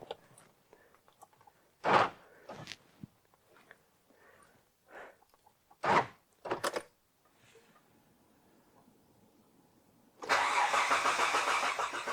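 A Mitsubishi Shogun engine cranks in a few separate bursts with short quiet gaps between them, then catches and fires into a loud, steady run, close and with no one speaking.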